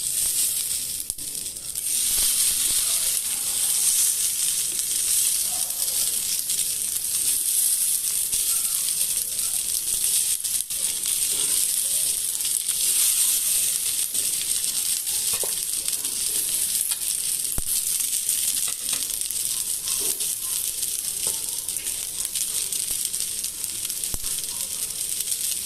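Pointed gourd (potol) frying in mustard oil, a loud, even, continuous sizzle with faint scattered clicks from the pan.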